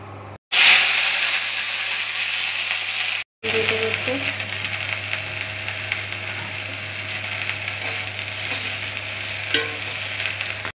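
Chilies frying in a pan give a steady, loud sizzling hiss that runs almost unbroken, with faint scraping and clicks now and then.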